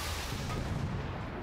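Artillery fire in the Toy Soldiers: Cold War war game, with a T28 super tank in play: a dense, continuous rumbling barrage of booms and blasts fills the scene, loud and without any clear gaps.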